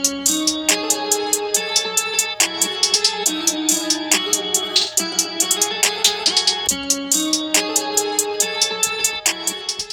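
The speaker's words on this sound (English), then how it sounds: "Alright, just finished up that hat pattern. That is gonna sound like this" A trap-style drum beat built from flipped stems, with a rapid hi-hat pattern full of rolls ticking over punchy hits and a melodic loop; dense, loud and steady with no talking.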